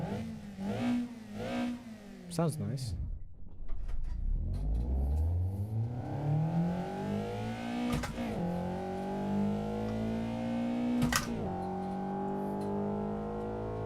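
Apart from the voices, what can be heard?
mid-engine sports car revving, video game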